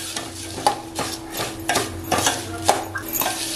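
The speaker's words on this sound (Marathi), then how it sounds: "हे ना शक्यतो स्लो गॅसवरच भाजायचे" Rice being dry-roasted for kheer in a pan over low gas, with a spoon scraping and stirring in repeated strokes and sharp clinks against the metal; no one speaks.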